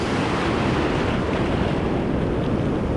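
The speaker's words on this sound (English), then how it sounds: "I still can't hit the crashing waves" Ocean waves crash on a beach in a continuous, loud, rushing roar with no voices.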